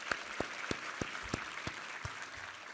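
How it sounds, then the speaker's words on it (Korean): A church congregation at a Sunday service applauds, faint steady claps spaced evenly over a soft wash of room noise. "우리 하나님께 감사와 영광의 박수 올려드리겠습니다"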